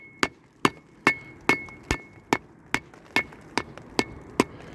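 Sharp, ringing metallic strikes of a pointing pick chipping old mortar from a wall land about a dozen times at a steady pace, each tap clear and close with a brief clink.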